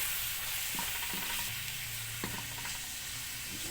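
Santol sautéing in a pan gives a soft, continuous sizzle with a few clacks of a spoon stirring it, fairly close and low in level, no voices.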